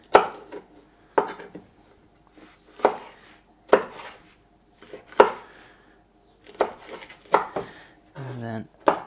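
A knife taps sharply on a cutting board in spaced single strokes as red vegetables are sliced lengthwise into strips for cubing, close and crisp, with a person talking between cuts.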